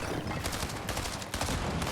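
Mythic hand cannon shots in Fortnite, fired during a competitive FNCS Grand Finals match: dense, crackling bursts of gunfire in quick succession, with a sharp heavier blast near the end, no voice over them.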